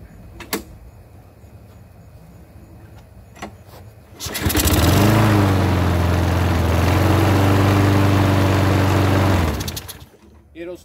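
A Troy Bilt 675 Series lawnmower engine, carburetor just cleaned, starts after a few pulls and runs loud and steady for about five seconds before cutting off, recorded close up outdoors on sand.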